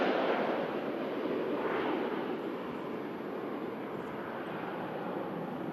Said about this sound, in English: Ryanair heading out to Rome.